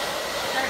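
Hair dryer blowing on hair during a salon colour correction, a steady close broadband whoosh held for a brief moment.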